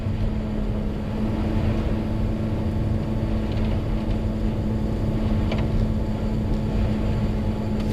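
A car heads downhill on a snowy mountain road in second gear, a steady loud engine drone with constant road rumble and no talking.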